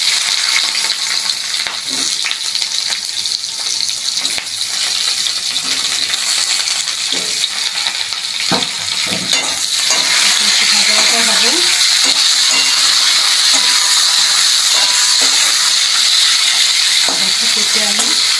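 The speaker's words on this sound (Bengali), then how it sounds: "শুকনো লঙ্কা আর কালো জিরে ফোড়ন দিলাম, দিয়ে পেঁপে আলু আর কাঁচা লঙ্কা" Steady oily sizzle of papaya, potato and green chillies frying in a pan with dried red chilli and nigella seeds, with occasional clinks of stirring and a faint voice in the background.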